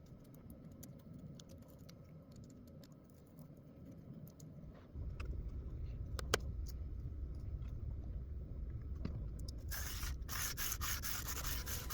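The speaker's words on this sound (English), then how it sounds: "I'm using a bit of 600 grit sandpaper to level out the brass." Continuous fine scratchy rubbing of 600 grit sandpaper on brass, growing louder partway through, with a few small taps and clicks and a harsher burst near the end.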